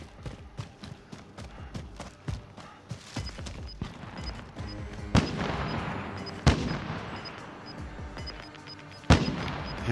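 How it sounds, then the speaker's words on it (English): Gunfire in a battle-royale shooter game, sharp cracks and bursts at irregular intervals, some close and loud, others more distant, repeating throughout with no one speaking. "Hearing gunfire over by this vehicle."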